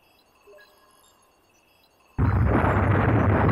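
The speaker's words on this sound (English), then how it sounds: "What was that explosion?" In the fantasy role-playing game Arc Rise Fantasia, a sudden loud explosion erupts after a quiet moment and roars on as a dense, sustained blast without any voices.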